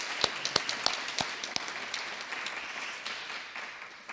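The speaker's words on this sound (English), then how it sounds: "How about a round of applause for them?" Scattered applause from an audience at a poet laureate induction ceremony, a handful of sharp, distinct claps over a soft, steady patter that gradually thins out, fairly quiet and heard at a distance.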